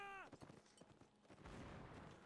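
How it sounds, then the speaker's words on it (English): Cannon fire in the Napoleonic Wars video game Mount and Blade, heavy booming reports with crackling musket volleys, a dense battle din heard in the background. "You can hear the cannons with their nasty report in the background"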